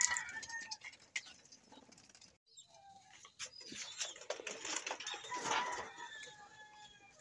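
A pet fancy pigeon coos softly at close range, giving low, quiet murmurs with short pauses against faint rustling and light background noise.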